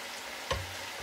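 Chayote fries pre-cook in hot oil in the first of two fryings, giving a faint, even bubbling sizzle with one soft knock partway through.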